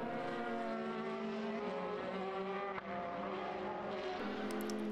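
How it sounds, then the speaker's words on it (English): Formula BOSS race cars at Mondello circuit, a sustained high engine drone with shifting tones as cars run together on track, heard from a distance and fairly steady throughout, without speech. "Sylvie and Aaron have passed Tom safely as they start lap 11"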